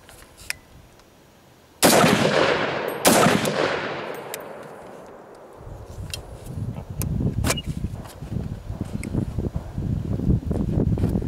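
Gunfire from an Ensio Firearms KAR-21 multicalibre rifle in .223/.308 at an outdoor range: two loud, sharp shots with long decaying echoes, followed by quieter rumbling and wind-like noise.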